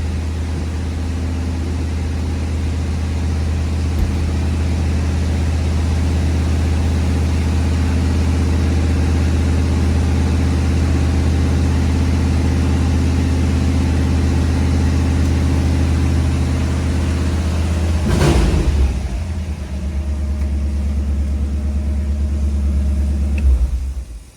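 A 1959 Ford Galaxie 500 retractable hardtop with a 352 V8 and automatic transmission runs in a loud, steady, deep idle rumble that holds for most of the stretch, then briefly surges and settles back.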